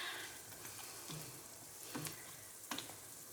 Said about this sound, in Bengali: বাকিগুলো এখনো ভাজা হচ্ছে।